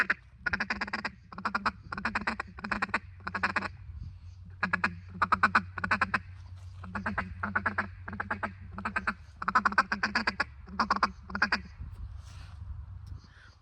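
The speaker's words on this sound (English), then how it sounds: "that feeding chuckle is a great thing to interpret into your calling patterns" A duck call is blown in a feeding chuckle, with rapid clusters of short, clipped quacking bursts in a quick rhythmic pattern, close and clear with brief pauses between runs.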